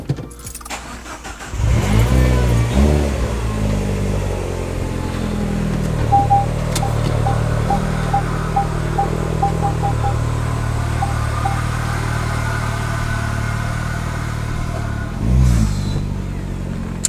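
A Citroën DS engine cranks and starts inside a garage, then runs with a loud steady drone and revs, with a faint ticking and a jangle of keys near the end.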